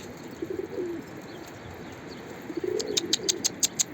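A yellow pied homing pigeon coos softly a couple of times from a rooftop over outdoor background noise, followed by a quick series of sharp clicks or taps.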